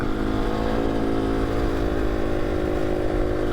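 A rally motorcycle in high-seat trim riding through sand, its engine droning steadily and loudly up close for the whole stretch with no pause or talk.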